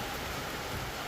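Rain pours steadily during a ride on an Ather electric scooter, a dense, even hiss of falling water that holds constant and loud throughout, with no speech.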